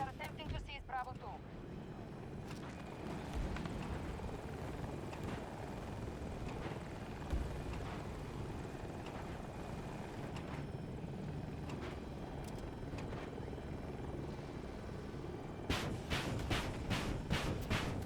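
Helicopter in a combat video game: a steady, loud rotor and engine drone runs the whole time, with a burst of sharp rapid cracks near the end.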